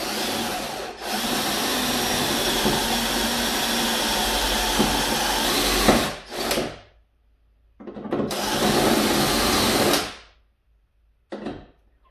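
A power drill with a step drill bit whines in long bursts while drilling through a Ford Mustang GT part for a spoiler or louver install, cutting off abruptly between runs, loud and close with gritty grinding.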